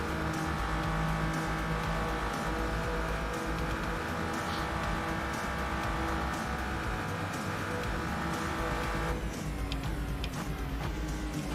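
A GT race car in the Assetto Corsa racing game holds a loud, steady engine drone with tonal harmonics that shifts pitch near the end, with no talking over it.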